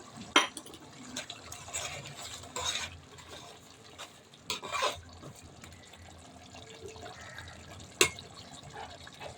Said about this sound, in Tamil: உப்பு கொஞ்சம் போட்டு லெமன் ஜூஸ் கொஞ்சம் ஊற்றிக்கலாம்